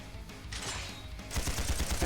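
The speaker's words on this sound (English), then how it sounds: "Dominique with the Tommy guns never gets old." Tommy gun bursts in the video game Trails Beyond the Horizon, sustained rapid automatic fire that grows denser and louder in the second half.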